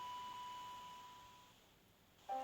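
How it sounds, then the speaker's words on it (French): A flatline ECG monitor in a FNAF video game gives a steady, thin, continuous beep that slowly fades out, then a fresh tone cuts in sharply near the end. "Le bip constant d'un électrocardiogramme plat."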